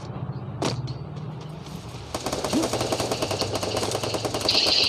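Rapid automatic gunfire from a video game rattles in a dense, continuous burst that grows louder toward the end, with a single sharp shot near the start.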